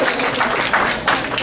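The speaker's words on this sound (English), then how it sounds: "Let's give him a round of applause." Applause from the audience at an election celebration, a steady wash of clapping filling the whole clip at close range with a few louder surges, no talk over it.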